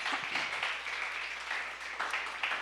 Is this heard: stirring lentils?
no